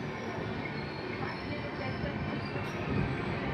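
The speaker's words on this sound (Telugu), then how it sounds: "ఇప్పుడే స్టేషన్లోకి ఎంటర్ అవుతుంది." Bhagyanagar Express (17233) rolling into Ramagundam station in rain, a steady dense rumble of wheels and carriage noise holding at constant loudness throughout.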